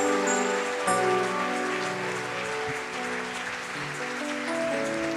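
A church congregation applauds, a steady patter of many hands clapping at moderate distance, mixed with sustained organ or keyboard tones beneath.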